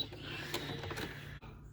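A sewing machine runs a back stitch through a fabric coaster made from scrap fabric, giving a steady, close mechanical whir with a low humming drone and a brief dip in sound near the end.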